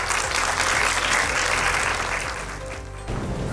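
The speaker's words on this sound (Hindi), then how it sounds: "प्लीज जोरदार तालियों के साथ वेलकम करिए जोया भट्टी जी का।" An award-ceremony audience applauds steadily and loudly to welcome an honoree, the dense clapping continuing without pause and dipping slightly near the end.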